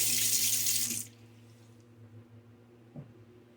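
A bathroom tap runs loudly into a sink for about a second while a face is rinsed after shaving, then shuts off, leaving quiet room tone with a faint later splash.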